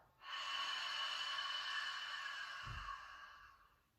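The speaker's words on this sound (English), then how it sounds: "Exhale it out." A long, steady exhale of breath during a Durga pranayama exercise, soft and airy, close to the ear and sustained for several seconds before tapering off.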